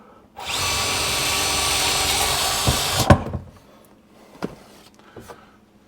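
A power drill drives a screw into a kitchen pull-out shelf, a loud steady whirring burst of about two and a half seconds that ends abruptly, followed by a few sharp knocks and clatters of handling.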